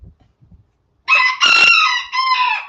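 Rooster crowing in a barn, one loud close cock-a-doodle-doo in several drawn-out bursts after a second of near quiet with faint thumps.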